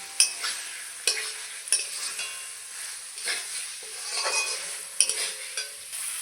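Water poured into a pan of frying potatoes and spices sets off a sizzle and steamy hiss, broken by several sharp scraping knocks of stirring.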